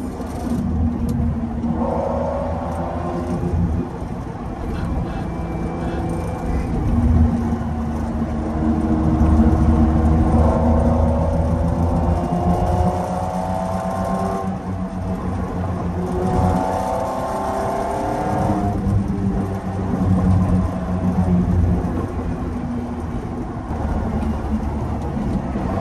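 A 1992 Lamborghini Diablo climbs canyon roads toward 5300 ft. The engine drones loudly and continuously, its pitch rising and falling as it revs through gear shifts, with no talk over it.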